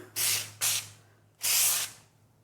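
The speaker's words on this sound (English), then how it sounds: "You just want to spray it like that before you put your custard dough you're putting in" Cooking spray hissing onto cling wrap in a kitchen: two quick bursts, a pause, then one longer spray, close and clear with a faint hum beneath.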